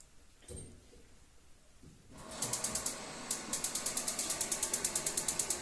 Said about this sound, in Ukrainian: Шутер спрацьовує е, запальничка електрична від батарейок.